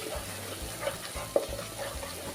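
Ground spice paste for mutton curry sautéing in oil over medium heat, a soft continuous sizzle with faint stirring scrapes and a couple of small clinks, quiet and close.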